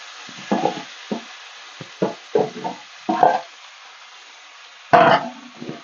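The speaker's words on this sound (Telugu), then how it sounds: "ఇవి తక్కువ వేసుకుని ఇలా వేపేసుకోవచ్చండి." Tomatoes and amaranth stems fry in a little oil in a pan for an amaranth stem chutney, heard as close, intermittent bursts of stirring scrapes and sizzle with short pauses between them.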